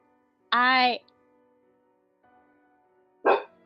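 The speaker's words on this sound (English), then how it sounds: "hey, stop, Mina, my dog." A dog nearby gives two separate barks in a quiet room: the first a drawn-out howling bark, the second short and sharp a few seconds later.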